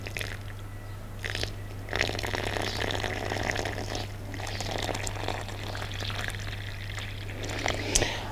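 Water is poured steadily from a can into a planting hole for leeks in a garden, making a continuous splashing, gurgling flow with a low electrical hum beneath and a few brief knocks near the end.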